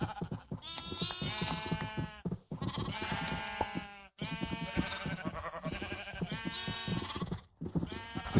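Sheep in Minecraft bleat in a string of wavering, nasal calls, loud and close, with only brief gaps between them.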